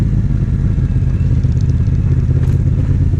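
A Yamaha MT-07 motorcycle ridden off-road on a desert track, a loud continuous low engine rumble with rough clattering texture throughout, close up and without talk.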